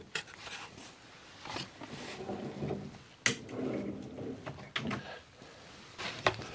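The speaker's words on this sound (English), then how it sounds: "Let me just remove this from the cabinet." A drawer box on Salice slides is pulled out of a cabinet, giving soft sliding rumbles broken by a few sharp clicks and knocks, close and fairly quiet, with no talk.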